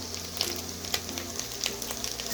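Onions frying in a pan with turmeric and chili powder for a Bengali mustard pomfret curry, giving a steady close sizzle with scattered crackles and scraping stir strokes, with no voices.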